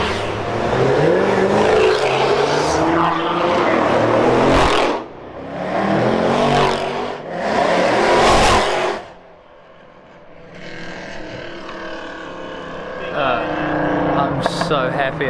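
A car pulls away hard at the start of a lap of the Nürburgring, loud broadband engine roar in bursts as it accelerates and passes close, then a quieter background hum; a person talks in between.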